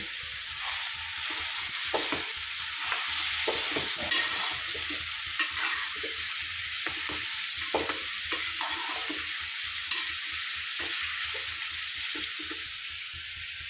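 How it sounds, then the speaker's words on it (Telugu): Carrot curry stirred and frying in a pan on a home stove, a steady sizzle with repeated scraping stirs throughout, no talk. "క్యారెట్ కర్రీ చేస్తున్నా"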